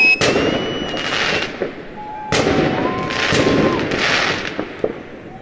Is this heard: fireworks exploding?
yes